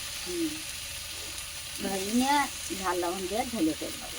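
Taro greens fry in a wok (kadai) at a fairly soft, steady sizzle, with a voice talking over the second half.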